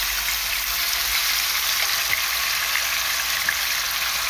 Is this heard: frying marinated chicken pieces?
yes